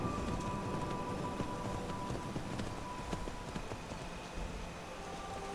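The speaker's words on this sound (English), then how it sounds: "A horse." Horse hooves in the video game Skyrim clip-clop in a steady walking rhythm, fairly quiet and continuous, with no voices.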